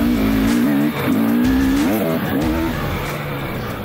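A KTM 250 two-stroke dirt bike ridden around a sand corner track on Bridgestone M59 and IRC VE33S tires, its engine buzzing loud and near, revving up and down repeatedly through the corner before easing off.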